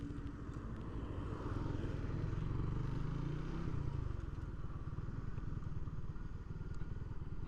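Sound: Suzuki Raider 150 motorcycle riding into a park

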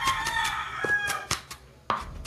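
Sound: chicken rooster crowing

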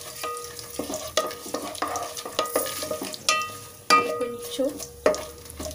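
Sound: whole spices and shahi jeera frying in oil for biryani

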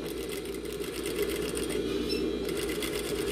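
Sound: industrial straight-stitch sewing machine sewing a seam

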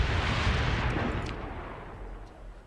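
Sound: fire support artillery in video game Star Sector

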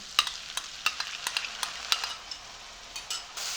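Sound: spices and yogurt being fried and stirred in pan

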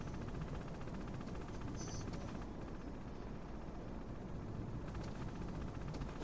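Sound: helicopter in Metal Gear Solid video game

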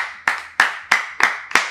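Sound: round of applause, hands clapping

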